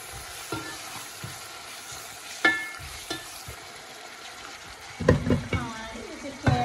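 Onions fry in a pan during home cooking, giving a soft continuous sizzle broken by occasional spoon stirs and clinks, quiet and close with no voices.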